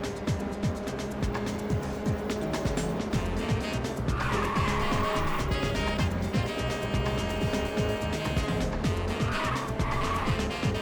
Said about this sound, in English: it's one of those cars that drift on its own